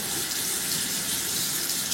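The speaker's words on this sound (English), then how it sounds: "You turn on the faucet to let the water run." Water runs from a faucet into a double sink, a loud, close, steady rushing splash that holds evenly throughout.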